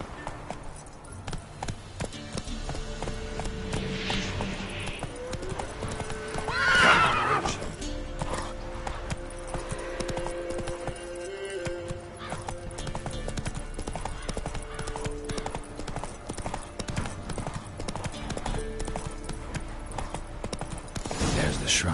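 Roach, a horse in a video game, gallops with steady clip-clop hoofbeats and neighs once loudly partway through, under a continuous backdrop of game music and ambience.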